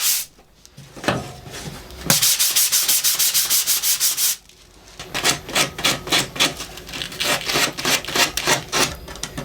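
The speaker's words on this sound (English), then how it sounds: "sanded this to soften the overall look of the plate" Hand sanding a wooden plate with a chamfered edge: rapid rhythmic back-and-forth rasping strokes in several bursts, close and fairly loud, separated by short pauses.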